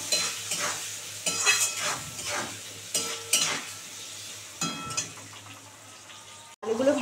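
Potatoes fry with salt and turmeric, a steady sizzle running throughout with repeated scraping stirs of a utensil against the pan, close and clear, with no talking.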